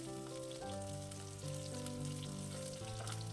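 Onions sauté in hot oil in a pan for a Kerala-style chembin thandu curry, giving a soft, continuous sizzle beneath steady background music.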